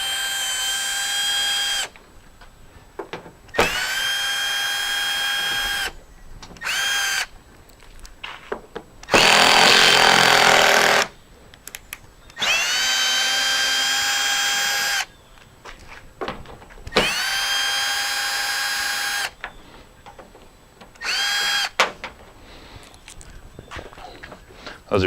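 A power drill backs out T30 screws holding trim on a truck bed, firing in several separate bursts of steady high whine that stop and start between quiet pauses, with a brief broader rush midway.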